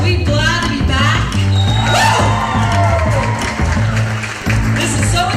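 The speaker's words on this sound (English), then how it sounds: "I expect a loud cheer" A crowd cheers and whoops loudly on opening night of the 66th annual Fayette County Fair, with shouts and applause over a steady backdrop of pounding music.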